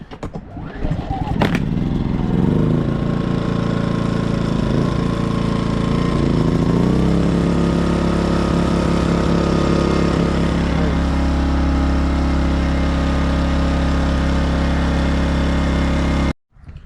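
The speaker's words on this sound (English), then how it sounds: "make sure that we start the generator once in a while" A generator engine cranks and catches after a brief sputter, then runs at a loud, steady drone close by, its pitch wavering slightly early on before settling, until it cuts off abruptly at the end.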